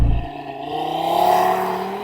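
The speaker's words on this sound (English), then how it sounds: "I'm going to launch it." An Audi TT RS Iconic Edition launches from a standstill. Its engine note climbs in a loud, rising roar as it pulls hard, recorded up close and without talk.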